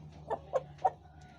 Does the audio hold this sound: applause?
no